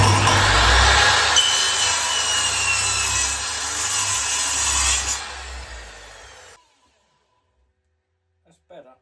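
A handsaw rasps steadily through a piece of wood for about six seconds, close and loud, then stops, leaving near silence broken by a couple of faint knocks.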